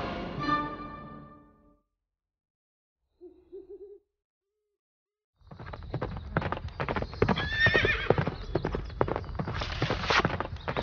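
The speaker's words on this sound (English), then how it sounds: "riding full speed through the countryside on her horse Angus" A horse gallops at full speed through open countryside, its hooves drumming in a fast, loud, near clatter that starts partway through, after an opening whinny and a brief owl-like hoot.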